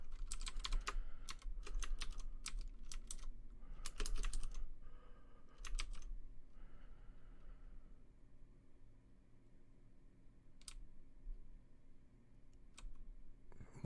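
Computer keyboard typing in quick bursts of clattering keystrokes, separated by pauses and a few isolated clicks, close and moderately quiet, with no talking.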